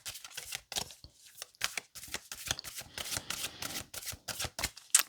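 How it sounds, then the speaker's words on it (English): Tarot cards being shuffled by hand in a steady run of quick papery riffles and flicks, close and fairly quiet, with no talking. "As I'm shuffling, I'm looking at my cards from the other deck"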